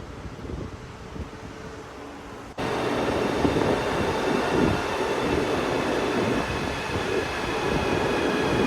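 A train rumbles in alongside a station platform, its roar and rattling wheels rising abruptly and holding steady, with wind rushing across the microphone.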